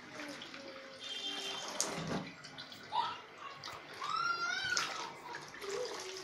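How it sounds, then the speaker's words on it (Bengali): Water runs and splashes while bottle gourd leaves are rinsed by hand in a kitchen, a soft, irregular trickling with light handling noises and faint background sounds throughout. "ধোয়া শেষ করে আমি শাকটি ধুইতেছি, লাউ শাকটি। লাউ শাক ভালো করে ধুইতে হয়"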